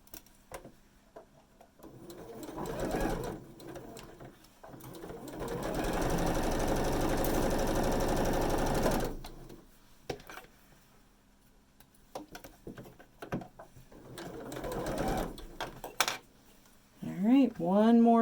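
Sewing machine stitching a quilt block seam, a steady mechanical whir in short bursts and one longer run of several seconds, with a voice talking quietly between the runs.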